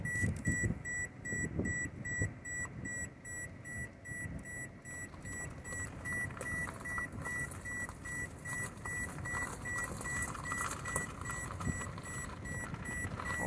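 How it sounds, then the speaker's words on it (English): Electronic beeping repeats in a quick, even rhythm of short high tones the whole time near the Garrison Dam at Lake Sakakawea, North Dakota, over a low rumbling background. "Oh, quit beeping."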